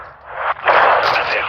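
Gunfire in the video game Call of Duty: Modern Warfare 2, a loud, dense burst of blasts and rumble that fills the whole moment with no pause.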